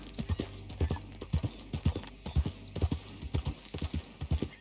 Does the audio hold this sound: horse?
yes